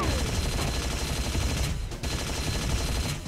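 Sniper rifle fire in the Unreal video game, dense and continuous broadband crackle of gunfire filling the moment with a brief dip midway, no talking.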